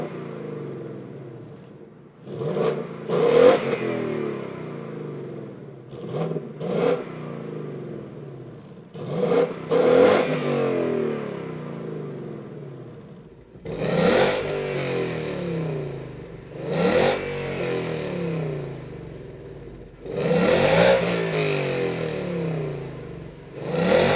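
Exhaust note of a 2018 Ford Mustang GT with long tube headers and active exhaust set to quiet mode, recorded from a short distance behind the car: a low burble broken by several throttle blips that grow louder and sharper toward the end.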